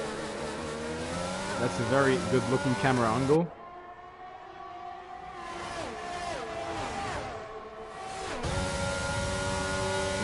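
Racing cars in a Formula-style video game race in Miami roar past, engines revving and shifting with whining harmonics, loud and close, then fading before another pack surges in, with a commentator talking over the action.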